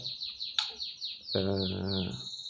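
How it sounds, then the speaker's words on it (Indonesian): A molting white-rumped shama repeats bright descending whistled notes while a lower, tonal vocal phrase cuts in midway, all fairly soft against a quiet background. "di dunia kicauan murai batu ini"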